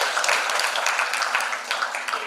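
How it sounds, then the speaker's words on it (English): Audience clapping after a public health guest lecture on maternal health: a short, steady wash of applause from a room of listeners, moderately loud and continuous, tapering slightly at the end. "let's give a big applause to"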